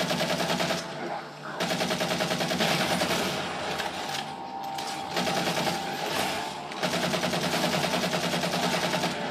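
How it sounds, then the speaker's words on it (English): A rapid machine gun fires in Halo 4 in loud, steady rattling bursts, close up, broken by short pauses. "Let's just machine gun these things."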